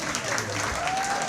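Banquet audience applauding at the Iowa State Athletics Hall of Fame event, a steady wash of clapping lasting only a moment, with a faint voice underneath.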